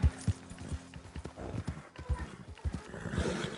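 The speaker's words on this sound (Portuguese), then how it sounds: "Cavalo é uma merda." Horse hooves clip-clop through the video game Red Dead Online, a run of sharp, close, uneven thuds with a brief whinny-like call near the start, set over steady ambient game noise.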